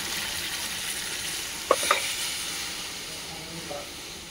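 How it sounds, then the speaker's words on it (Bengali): Spice masala, cooked down until the oil separates, sizzles and hisses steadily in a pan, with a couple of brief stirring clinks near the middle; moderately quiet with no talking. "আর আমার এইদিকে মশলাটা কষা হয়ে গেছে, তেল ছেড়ে দিচ্ছে, একবারে জল দিয়ে দিই এখন।"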